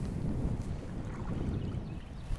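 Fishing boat cruising across the water, a steady low engine rumble with wind buffeting the microphone throughout, no voices.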